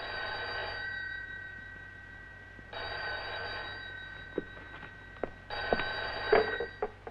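A telephone bell rings in repeated bursts, with three distinct rings separated by pauses, set in a 1970s film scene. Faint clicks and knocks follow the later rings.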